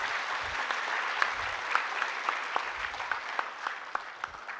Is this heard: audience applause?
yes